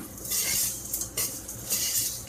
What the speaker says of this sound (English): I'm gonna stir this around a little bit